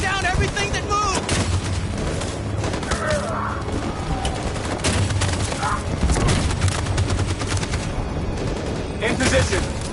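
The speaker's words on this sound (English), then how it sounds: "That machine gun is taking down everything that moves!" Machine gun fire in the game Detroit: Become Human rattles continuously and loudly with dense overlapping bursts and explosions throughout, and shouted voices come through the din.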